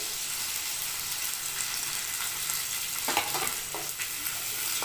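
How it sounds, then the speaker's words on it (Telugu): Onions sizzle in hot oil in a pan for a home-made chicken curry, fried until golden: a steady, close frying hiss throughout, with a few brief stirring scrapes near the end. "గోల్డ్ కలర్లో వచ్చేదాకా వేపుకుందాము."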